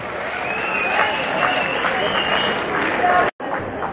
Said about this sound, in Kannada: ವಿಜಯ ಕರ್ನಾಟಕಕ್ಕೆ ಒಂದು ಜೋರಾದ ಚಪ್ಪಾಳೆ ತಾವೆಲ್ಲರೂ ಕೊಡಲೇಬೇಕು